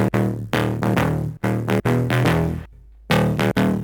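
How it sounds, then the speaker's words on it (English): Main lead synth for a leftfield bass drop built in Vital, playing loud, distorted, choppy stabs in a quick rhythm with brief gaps and one short pause, no voice present. "The main lead sounds like this."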